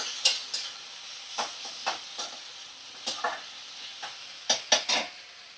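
Cumin paste and spices stirred and fried on a low flame for a fish curry, with about a dozen distinct utensil knocks and scrapes against the pan over a faint sizzle.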